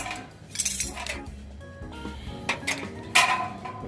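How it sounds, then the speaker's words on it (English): A metal barbecue grill fork and spatula clink and clatter as they are handled, in a few bright, close metallic knocks and jangles over a quiet background. "So you get this fork along with it, and you have a spatula"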